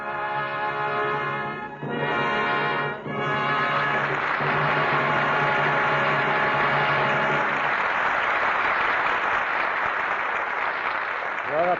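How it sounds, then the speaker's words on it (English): Studio audience applause bursts out after a radio drama broadcast, over orchestral music that rings out at first and then fades, leaving loud, sustained clapping that continues to the end. "Your applause is a command."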